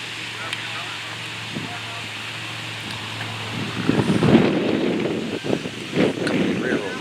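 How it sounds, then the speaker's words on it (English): Wind gusts through a demolition derby pit area, a low steady rush that swells louder in the second half with rustling bursts, beneath a faint hum. "Apologize for the wind, it's kind of windy,"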